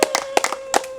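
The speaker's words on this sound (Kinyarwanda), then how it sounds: "muntize ibiganza bibyara amashyi twakira umugeni twari dutegereje mu nzu" Wedding guests welcoming a bride give a few scattered, uneven hand claps, near and fairly brief, over a faint steady tone.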